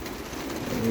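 Soft, low racing pigeon cooing murmurs steadily through a one-second stretch, fairly close, with no talking.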